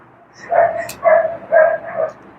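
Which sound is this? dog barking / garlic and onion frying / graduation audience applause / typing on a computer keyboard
dog barking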